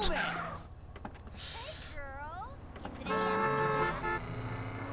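A car horn honks in the video game GTA San Andreas amid a chaotic race, with squeals, creaks and other game noises; a sustained horn blast stands out near the end.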